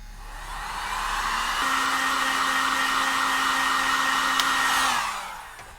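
A hair dryer gives a light dry to a coat of Pentart dipping paint, a steady close whooshing blow with a constant hum that ramps up, holds for several seconds, then winds down.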